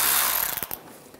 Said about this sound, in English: Use an 8mm socket, take this screw out.